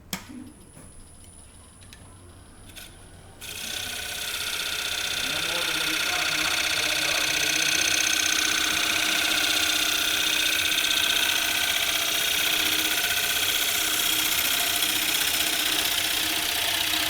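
A bench grinder used while turning a wooden hat: after a few quiet seconds it spins up into a loud, steady, hissing whine that holds without a break to the end.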